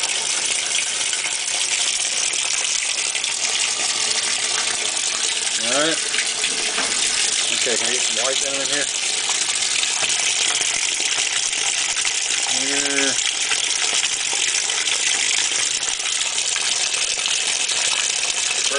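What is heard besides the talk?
water filling GE Hotpoint washing machine tub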